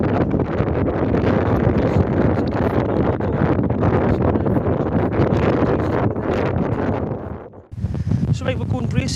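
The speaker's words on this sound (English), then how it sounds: "that is what it looks like when the wind changes direction and smacks it straight in the face" Wind gusts steadily against a KUIU Mountain Star tent, a loud, close roaring rush with fabric buffeting that dips briefly before picking up again.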